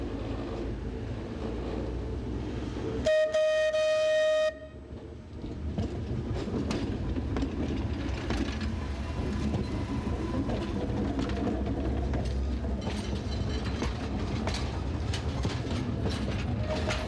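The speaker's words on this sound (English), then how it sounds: "As the train creaks out of Palma station and begins its leisurely journey to Sóller" A Sóller railway train pulls out of Palma station, steady rumbling and clattering wheels with a brief tonal whistle or squeal early on, continuous and fairly close.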